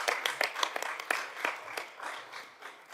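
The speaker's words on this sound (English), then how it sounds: "I think we all need to, perhaps give ourselves a clap" Council meeting attendees giving a brief round of clapping, a thin scattering of distinct hand claps from a small group, fairly quiet and fading toward the end.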